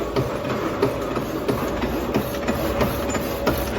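A workshop machine saws through a 60 mm round steel bar, a steady grinding mechanical drone with a rhythmic pulse and faint metallic ticking, continuous and fairly close, with no talking.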